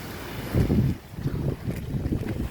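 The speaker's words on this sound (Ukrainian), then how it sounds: "Але погода вітряна." Gusty wind buffets the microphone in low rumbling bursts at an Adriatic beach, a strong blast followed by steady blustery noise, no voices.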